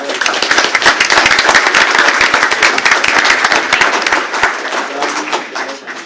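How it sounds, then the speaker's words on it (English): Loud, close applause from the audience at a school board meeting, many hands clapping briskly with sharp individual claps, holding strong for most of the stretch before thinning out near the end. "Give these guys a big round of applause."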